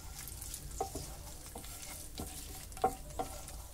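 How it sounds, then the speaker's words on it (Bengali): Whole garam masala (cloves, small cardamom) and a torn bay leaf fry in mustard oil for a prawn curry. A soft sizzle runs under occasional light spatula stirs and clinks, quiet and close. "গোটা গরম মশলা আর তেজপাতা আমি ভালো করে ভেজে নিলাম।"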